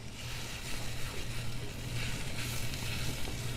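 Spices roast in a hot pan with a steady, soft sizzle and crackle of frying that carries on evenly throughout, no voices over it.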